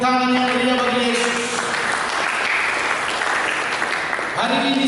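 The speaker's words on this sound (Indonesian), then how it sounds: "Mari kita berikan tepuk tangan yang meriah bagi Yesus." Congregation clapping in a church during a Sunday service, a broad wash of applause mixed with lingering music tones and some voices throughout.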